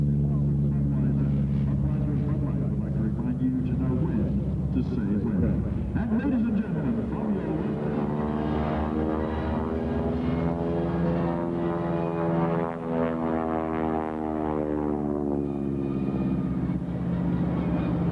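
A WWII-era AT-6 Texan propeller trainer at an air show, its radial engine droning steadily and fairly close, the pitch rising and falling as it maneuvers, with a voice heard talking over the engine.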